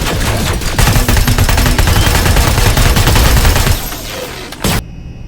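Rapid automatic gunfire from a hacked turret blasting another turret in Terminator: Resistance, a dense, loud, continuous stream of shots that cuts off near the end with one last burst.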